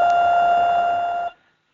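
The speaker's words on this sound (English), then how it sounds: "now it'll beep for a little bit longer." A device sounds one loud, steady electronic beep lasting over a second, a pure sustained tone that cuts off abruptly into silence, with no talk over it.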